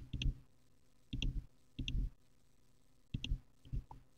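Quiet computer mouse clicks while modeling in Fusion 360, coming in small clustered bursts of two or three clicks separated by short pauses, close and soft, with no talk over them.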